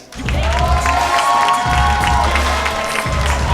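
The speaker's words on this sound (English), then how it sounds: "Big round of applause for Connor McSpadden." Comedy club crowd cheering and clapping for a comedian for about three and a half seconds, with a steady dense roar, whoops over it, and heavy bass music thumping underneath.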